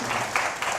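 Brief burst of audience applause at a Korean Christian forum, a short steady wash of clapping under 1 second with no voices on top.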